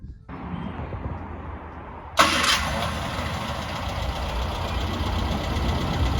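A classic MG Midget is started: after a quiet low hum, the starter catches sharply and the engine fires, then it settles into a loud, steady idle close by.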